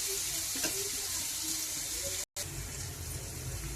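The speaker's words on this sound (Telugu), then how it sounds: "ఇది బాగా ఇంకా కొంచెం ఫ్రై అవ్వాలండి" Masala sizzling and frying in a pan for an egg and potato curry, a steady close hiss filling the clip with a brief cutout in the middle and faint stirring underneath.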